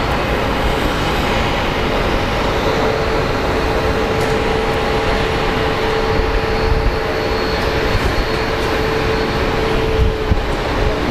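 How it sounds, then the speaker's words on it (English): American Airlines flight 2398 from San Francisco arrives at Phoenix Sky Harbor, a loud, sustained jet roar with a faint whine riding on top, continuous and close, with no talking. "We do have American Airlines 2398 coming from San Francisco."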